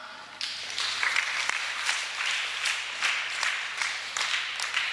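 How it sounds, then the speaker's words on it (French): A church congregation applauding at a Sunday service, a steady wash of many hands clapping together, moderately loud and sustained throughout. "On acclame."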